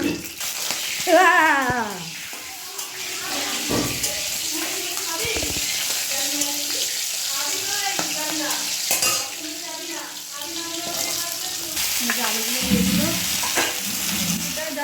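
Potatoes fry in hot oil in a heated kadai with nigella seeds and green chillies, giving a continuous crackling sizzle and occasional stirring scrapes, while voices talk over it throughout.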